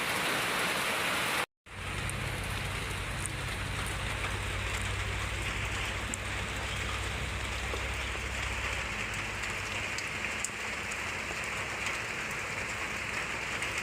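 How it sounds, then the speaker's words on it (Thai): Steady, dense rain hisses without pause, a heavy downpour filling the space. A brief dropout comes near the start, then a low hum runs beneath it. "นี่คือฝนเนาะพี่น้องเนาะ"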